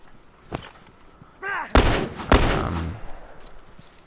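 Gunfire from a single-fire gun in an online match of The Last of Us, two loud close shots a moment apart after a faint pop, with an excited voice heard shouting in between.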